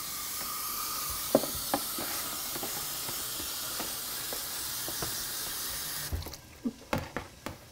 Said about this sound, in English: Let's rinse this off while we got it.